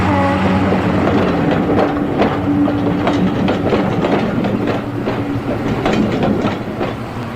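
A British railway train running on its tracks, with a steady rolling rumble and a rhythmic clickety-clack of the wheels passing close by.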